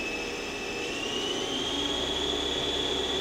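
A Haas SL-20 CNC lathe spindle spins up toward about 1,000 RPM, a steady whine rising slightly in pitch over a constant mechanical hum, heard up close and alone without voices.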